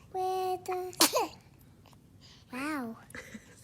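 A baby gives a single sharp, brief sneeze at close range, sandwiched between soft baby babbling and an adult's voice.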